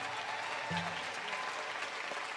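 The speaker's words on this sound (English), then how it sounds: "so parents clapping, yeah" Parents in the audience at a school entrepreneurship day awards ceremony clap in a steady, dense round of applause that holds at even loudness throughout.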